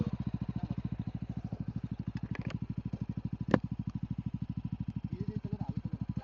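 A motorcycle engine idles near and steady, its exhaust silencer giving a rapid even thumping beat with a few faint clicks and one sharp tap over it.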